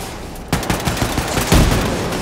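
Gunfire in the shooter game Wolfenstein II, bursts of rapid automatic shots and heavy impacts in crossfire, dense and loud with a couple of stronger blasts.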